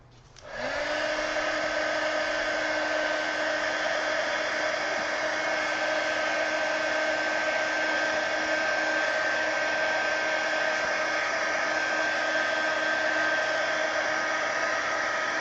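Hair dryer running steadily at full power to dry wet layers of coloring on a page, with a loud, constant whirring hum after a quick start and no talking.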